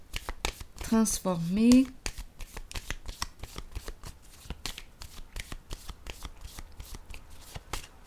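A deck of playing cards is shuffled in a steady run of quick riffling flicks, close and fairly crisp, with a brief stretch of talking near the start.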